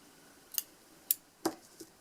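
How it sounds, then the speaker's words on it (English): Scissors snip through crochet thread in a quiet room, making four faint, sharp clicks spaced roughly half a second apart. "I will cut my thread here"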